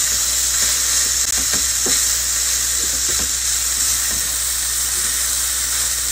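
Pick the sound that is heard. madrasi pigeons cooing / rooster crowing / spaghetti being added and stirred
spaghetti being added and stirred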